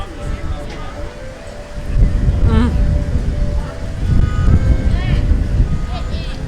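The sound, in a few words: strong wind blowing at Epcot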